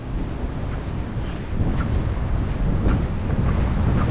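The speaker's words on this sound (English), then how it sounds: "It's breezy. The tide is coming in and reclaiming the sandbar." Wind gusts buffet the microphone at a beach while the incoming tide washes over a sandbar, a loud continuous roar of breeze and surf with no voices.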